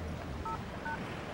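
Two short telephone keypad dialing tones beep in quick succession, faint and clean against a low steady background hum, with no voices.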